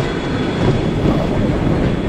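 Suburban electric train riding on its rails, a steady close rumbling roar from inside the carriage with no voices.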